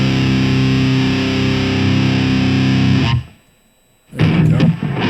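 Electric guitar in Cubase pushed through heavy gain into saturated distortion, a dense buzzing wash that cuts out into near silence for about a second before a fresh distorted burst returns.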